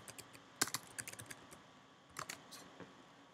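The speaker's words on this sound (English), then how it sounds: "you just type in a different name for this file" Quiet typing on a computer keyboard, with a quick flurry of key clicks, a pause, then a few more taps, all close and soft with no talking.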